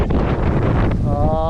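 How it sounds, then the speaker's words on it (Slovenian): Strong gusting wind roars across the microphone aboard a sailboat anchored near a Solomon Islands island, a dense, loud, continuous rush with a faint whistling tone emerging near the end. "Res piha, neverjetno."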